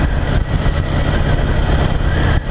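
Honda Goldwing motorcycle after a major service, riding through open polder countryside: a steady, dense engine drone with road and wind rumble, continuous and fairly loud, no voices.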